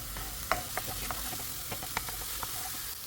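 Chopped onions fry in hot oil for egg bhurji under a constant soft sizzle, with scattered clinks and scrapes of a spoon stirring the pan.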